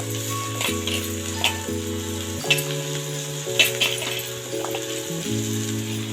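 Potatoes, carrot and beetroot frying in oil for veg biryani, a soft steady sizzle under a continuous steady tone, with a few brief stirring clicks and no talking.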